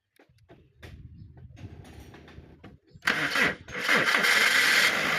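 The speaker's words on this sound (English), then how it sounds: "The engine is running, as you are able to see or to hear." A Toyota Wish with an ECU wiring fault, formerly a crank-no-start, cranks in a quick mechanical churn for a few seconds and then catches, settling into a loud, steady running engine close by.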